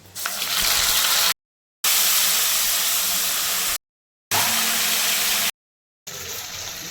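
Dried red chillies dropped into hot oil hiss in a loud, continuous sizzle, broken by a few abrupt silent gaps.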